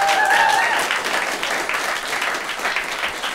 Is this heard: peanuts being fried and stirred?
no